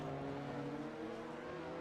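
Race car engines from a GT500 video game race at Laguna Seca, a steady loud droning hum with layered engine tones holding level throughout, no voices.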